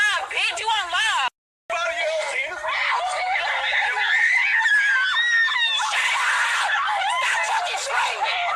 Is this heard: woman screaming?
yes